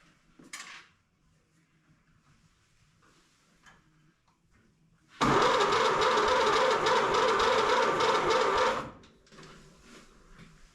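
After a quiet stretch, the original engine of a 1931 Ford Model A pickup cranks loudly for a few seconds with a rapid churning rhythm, turning over without firing despite a wet carburetor, then stops.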